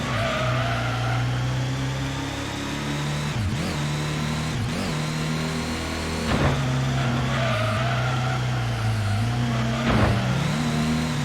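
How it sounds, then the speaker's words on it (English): A car engine hums and revs steadily while tires squeal in a few short bursts as the car drifts through turns in a driving video game. "Oh my god, my car is drifting"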